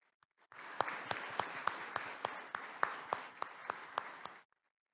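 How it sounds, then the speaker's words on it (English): Audience applause at a robotics open house, a dense wash of clapping that starts abruptly, holds steady with sharp individual claps standing out, then stops cleanly, heard at moderate distance with no talk over it. "Let's give him a round of applause for that."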